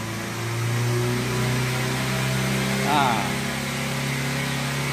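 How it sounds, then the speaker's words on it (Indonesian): A car engine idles with a steady hum, then the revs climb toward 4000 rpm and fall back as the throttle is released. A voice talks over the engine. "Kalau kita gas, maka dia naik. Kita gas sampai 4000."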